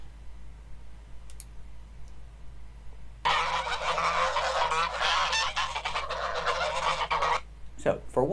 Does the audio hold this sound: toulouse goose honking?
yes